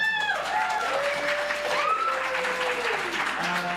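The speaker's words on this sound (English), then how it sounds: "All right, round of applause." An audience at a hip hop musical theater show claps steadily while amplified voices and sung or stretched tones ride on top of the clapping, all fairly close and loud.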